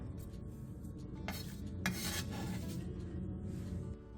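A medium onion being cut into thin strips with a knife, giving soft, close rasping strokes and a couple of brighter swishes, quiet and steady throughout.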